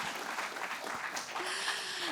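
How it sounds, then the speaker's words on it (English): An audience applauds university leadership at a campus event. The clapping is moderate and continuous for a couple of seconds, with a faint tone near the end. "Clap for university leadership."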